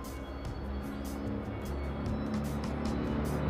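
A truck passes on a nearby road with a steady engine rumble and tire roar that swells slightly toward the end, with no voices over it.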